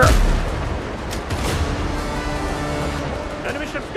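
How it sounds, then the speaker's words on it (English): Ship cannons fire in Windrose, a heavy boom up front followed by rumbling blasts and crackling debris across open sea, with a voice talking over it. "we'll blast him with our cannons"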